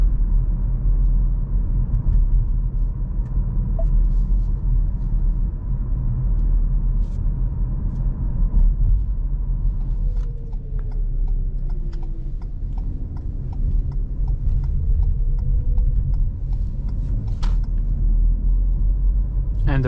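A 2023 Ford Focus with the 125 HP EcoBoost engine drives through Zagreb at night on 17-inch wheels, its low, constant engine and road rumble filling the cabin, with faint ticking clicks and a few brief higher tones in the second half.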